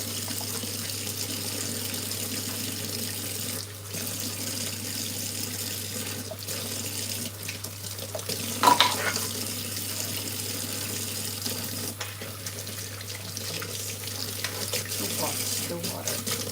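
Tap water running steadily into a sink during home cooking of white cabbage soup, a constant hiss filling the whole stretch with a brief louder splash midway.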